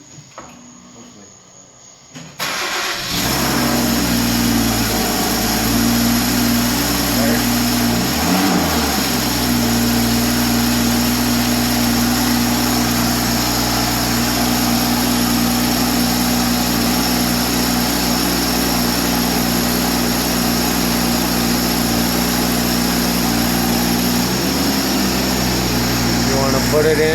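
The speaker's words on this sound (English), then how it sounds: "we're starting it first time since we got the exhaust back on. So we're gonna hear how it should sound." A Porsche 981 with flood damage, started for the first time after its exhaust was refitted, idles steadily and loudly at close range for about 25 seconds, a broad constant engine drone with a couple of brief dips.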